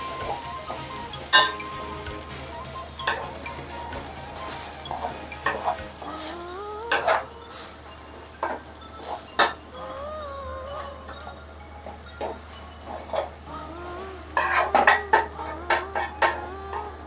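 Semolina roasting in a pan for uppittu while a spoon stirs it, with repeated scraping strokes, metallic clinks against the pan and a gentle sizzle throughout, close and fairly loud, no talk.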